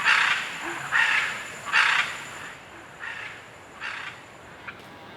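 Loud, harsh squawking calls from a scarlet macaw, five raucous blasts spaced about a second apart, gradually fading, against quiet outdoor background in Costa Rica.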